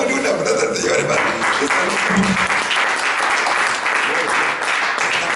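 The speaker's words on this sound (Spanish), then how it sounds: "Démosle una aplauso al Señor" Church congregation clapping for the Lord during a ministerial teaching service, a steady dense patter filling the room with some voices mixed in underneath.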